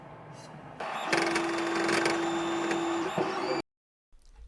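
A Tronxy X6A 3D printer runs its first print with a loud, steady mechanical whir and a sustained motor whine, then cuts off abruptly into silence before faint noise returns.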